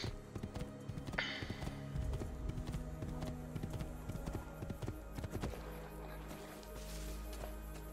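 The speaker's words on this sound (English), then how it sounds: "These horses are even harder to control than Ezio himself." Horse hooves in the video game Assassin's Creed II, a brisk, rhythmic clip-clop of a ridden horse, fairly quiet alongside faint game sounds.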